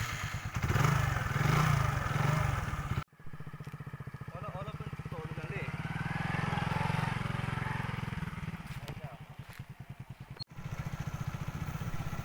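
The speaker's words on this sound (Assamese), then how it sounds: "এতিয়া আমি বাইক ষ্টাৰ্ট কৰিলোঁ" A motorcycle engine starts and settles into a steady, chugging run, its rapid pulsing beat clear and close, with a brief voice at the start and two sharp cuts in the sound.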